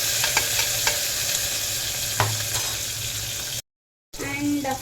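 Chopped onions sizzle steadily in a hot pan for empty chalna while a utensil stirs them, adding occasional scraping strokes; the frying cuts out briefly near the end, then returns.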